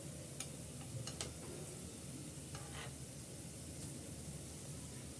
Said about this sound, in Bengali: এগুলো আমি গোল্ডেন করে ভেজে নিচ্ছি